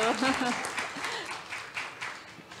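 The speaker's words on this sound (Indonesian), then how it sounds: "Gimana kalau suruh boleh tepuk tangan dulu." An audience at a cultural panel discussion breaks into a short burst of applause. Scattered clapping rises under a voice speaking at the start and continues briefly on its own.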